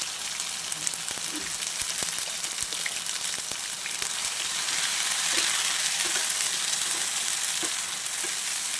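A spice paste of onion, garlic, ginger and chilli fries in a pan with a constant, moderately loud sizzle and scattered small pops and spatters, with no voices over it.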